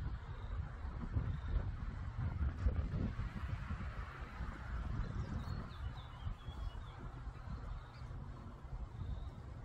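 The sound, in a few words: wind blowing outdoors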